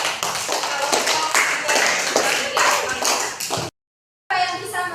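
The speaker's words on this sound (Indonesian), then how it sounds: "tepuk tangan dulu untuk kelompok" A classroom group claps hands in a quick, fairly loud burst of taps for several seconds, then a brief silence before more noise resumes.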